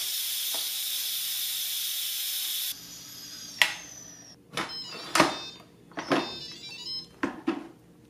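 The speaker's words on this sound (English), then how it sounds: "now we can release the steam." An Instant Pot Duo Mini vents steam in a loud, steady hiss for a few seconds, then cuts off abruptly, followed by several sharp clicks and clatters from handling the pot.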